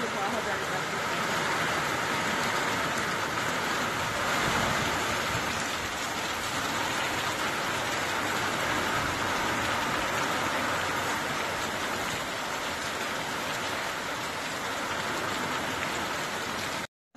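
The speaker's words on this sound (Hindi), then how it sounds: "बारिश बहुत जोर की हो रही है" Heavy rain pours down steadily in the early morning, a dense, continuous hiss of water on surfaces that holds at an even level throughout with no breaks.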